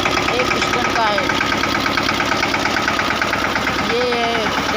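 A Mahindra Yuvraj 215 small single-cylinder tractor fitted with a sprayer idles with a steady, rapid, loud thudding knock, close by and continuous throughout.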